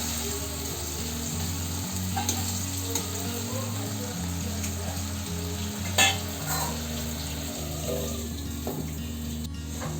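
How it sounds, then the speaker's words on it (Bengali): Okra frying in a pan for a Bengali bhindi dish with mustard paste, steady close sizzling with stirring scrapes and a faint clink, no voices. "একটু ভাজা ভাজা করে নিয়ে আমি একটুখানি জল দেবো, অল্প, একটু যাতে সেদ্ধ হয় ভেন্ডিটা ভালো করে"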